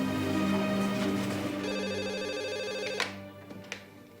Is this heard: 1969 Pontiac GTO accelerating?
no